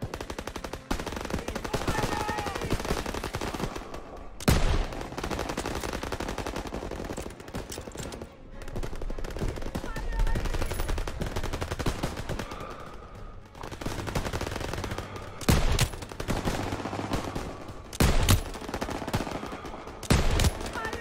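Sustained machine gun fire in the World War II shooter Call of Duty WW2, with dense rattling bursts running nearly the whole time, broken by a few sharper louder shots and brief lulls, in a loud battle ambience.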